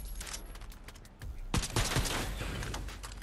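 Bursts of gunfire ring out in Fortnite Chapter 4 Season 2 while targets are shot down, a short volley followed by a denser, louder rattle of rapid shots.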